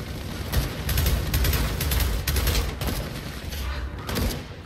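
Rapid pistol gunfire in Gears of War 4 combat, a dense run of sharp, close shots that repeats for several seconds amid loud battle noise.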